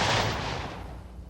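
Picric acid is detonated at a county bomb range, a single loud blast whose rumble fades off over about a second.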